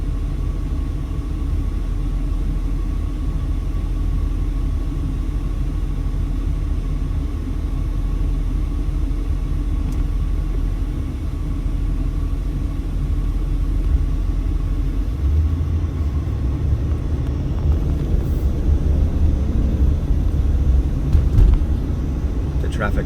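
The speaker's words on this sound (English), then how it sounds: "traffic backed up going westbound on Sahara there" Traffic rumbles along Sahara Avenue near Interstate 15 in Las Vegas, a steady low engine drone with cars idling and passing close by, swelling near the end, while a person talks throughout.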